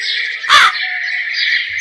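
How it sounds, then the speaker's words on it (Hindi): A loud, close bird call fills the clip as a crow's cry in an animated story, with a sharp squawk burst in the middle over a steady high whistling tone. "ये सुनकर कौवा जोर जोर से रोने लगता है।"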